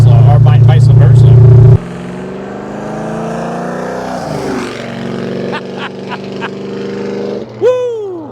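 A 1972 Chevrolet Monte Carlo with a blueprint engine revs loudly and close, a heavy rumble that drops to a steady idle, then climbs and falls again in a sharp blip near the end, with voices talking in between.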